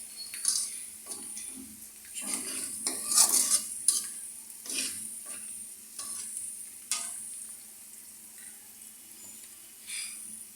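Onions fry in a pan for a ridge gourd fish curry, with a soft sizzle under repeated bursts of spoon scraping and stirring, close and clear, and no talking.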